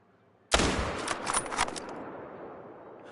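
A single loud rifle shot cracks sharply in a moose-hunting video game, followed by a long rolling echo that fades out over a few seconds, with no voices.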